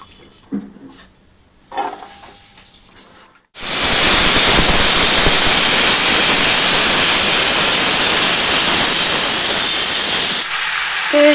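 Chopped vegetables for a vegetarian curry are rinsed under running water: after a few quiet knocks and clatters, a loud, steady gushing rush starts abruptly and continues for several seconds before cutting off.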